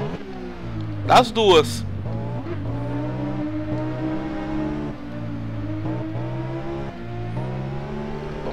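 A Suzuki superbike in the Ride 1 racing game revs steadily, its engine tone rising and falling through gear changes, with a brief sharper burst near the start. Someone talks over it throughout.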